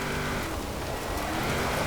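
Engine of a 1997 Nissan Skyline GT-R V-Spec swapped to a large V8 in Forza Horizon 4, a loud continuous drone held steady throughout with rough low grumble and faint tire noise.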